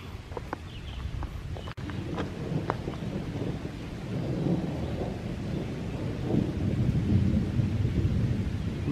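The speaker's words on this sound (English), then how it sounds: "I love the sound of distant thunder." Distant thunder rolls as a low, building rumble on a dark park trail, with light rain and a few footstep-like taps near the start.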